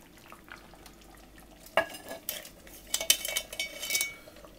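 Metal clanks and scrapes as a lid is worked onto a cast-iron potjie pot of lamb on a Cobb BBQ, several sharp knocks and rattles close by after a quieter stretch.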